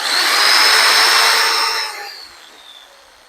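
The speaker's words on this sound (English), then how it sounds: "Now, with this Black & Decker, it's all in the trigger. There is no max speed setting. So I'm going to pull the trigger" A Black & Decker jigsaw with no speed setting runs at trigger-controlled speed: a loud, close whine that holds steady, then drops and winds down as the trigger eases off.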